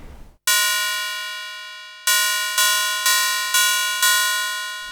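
A metallic, bell-like patch from a Yamaha EX5 subtractive synthesizer rings out as a long clanging tone, then five more struck hits that each decay slowly, clear and alone with a doorbell-like shimmer.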